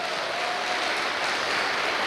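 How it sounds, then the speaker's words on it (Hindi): A crowd at a network-marketing meeting claps for a newly promoted Diamond-rank leader, a dense, even wash of applause sustained throughout without a break. "मैं चाहूंगा उनके लिए जोरदार ताली बजाइए"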